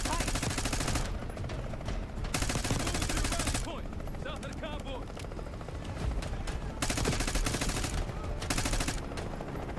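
Bursts of automatic gunfire in Call of Duty Black Ops 6, loud and close, with dense volleys broken by short lulls of scattered shots and game noise across the full length.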